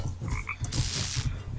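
Cartoon frog croaking in the Tasty Planet: Back for Seconds video game, a few short low rhythmic croaks in quick succession alongside a brief bright hiss, no speech.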